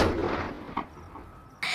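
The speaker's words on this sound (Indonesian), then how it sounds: "lalu dia menembaki mereka semua" Gunshots from the horror film Don't Breathe: a loud burst at the start, a sharper crack near the middle and another abrupt shot at the end, with quieter decaying reverberation between them.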